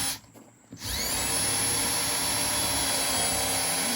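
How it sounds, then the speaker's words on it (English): A power drill spins up after a brief quieter moment and then grinds steadily and loudly at close range, a continuous whining drone. "Never seen a drill bit take that long to get through."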